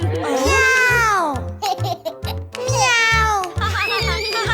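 A voice imitates a cat with two long, wavering meows separated by a short pause, close and fairly loud.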